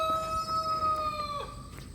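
Backyard chickens in a garden, with a long sustained crowing-like call and fowl sounds carried over steady outdoor background noise, fairly close and continuous for the whole moment.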